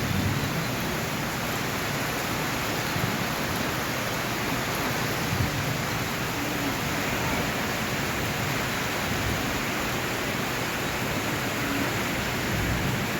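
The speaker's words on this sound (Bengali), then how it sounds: "বৃষ্টি শুরু হয়েছে" Rain falls steadily in a Bangladeshi village, a dense, even hiss that holds unchanged throughout with no voices or distinct drops standing out.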